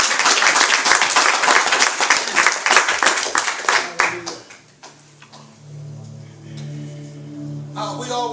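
A church congregation claps by hand in a brisk burst that lasts about four seconds, then thins out and stops, followed by a soft sustained organ-like tone.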